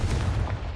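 A Confringo fire spell blasts in Hogwarts Legacy, a short, heavy, booming burst with a deep rumble, close and loud, lasting under a second.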